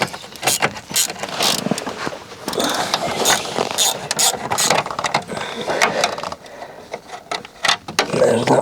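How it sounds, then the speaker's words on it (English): Ratchet wrench turning a cab air filter fastener on a Fiat Ducato motorhome, giving rapid, rhythmic ratcheting clicks at close range in repeated bursts. "just going to get the ratchet on this"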